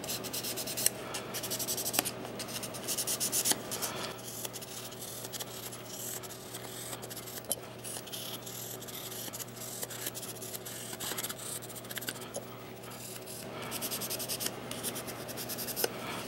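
EDM electrodes rubbed back and forth on fine 500 grit sandpaper, a soft continuous scratchy rasping with steady strokes and occasional pauses, close and fairly quiet under a faint low hum.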